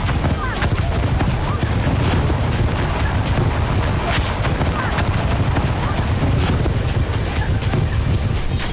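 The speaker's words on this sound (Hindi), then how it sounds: "अचानक आसमान से क्लस्टर बम गिरने लगते हैं।" Cluster bombs exploding over a beach at Sevastopol in Crimea, a dense, continuous rumble of blasts and crackling bursts heard at high level without letting up, with wind buffeting and a voice mixed in.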